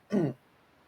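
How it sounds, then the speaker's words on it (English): A single short throat clearing, close and fairly soft, lasting about a quarter second before quiet returns. "excuse me as I clear my throat."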